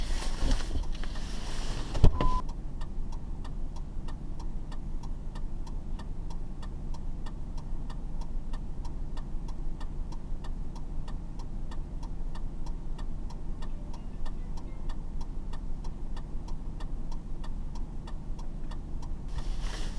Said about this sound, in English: Hazards on.